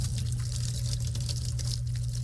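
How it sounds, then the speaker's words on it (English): Water flowing from a serrated hose connection through a dual eyewash device, a continuous close gushing rush with a strong low rumble and hissy spray. "turn on the water"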